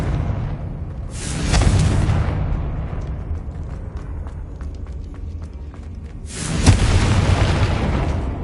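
Two heavy explosive booms from the Confringo spell in Hogwarts Legacy on PS5, one early and one near the end, each a loud blast that swells and rumbles for about a second over a steady game-world background.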